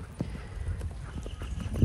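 Horses' hooves clip-clop in a quick, uneven rhythm on the ground as several horses move about nearby, fairly close and clear.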